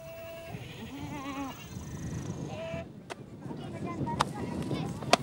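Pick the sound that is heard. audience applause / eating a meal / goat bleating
goat bleating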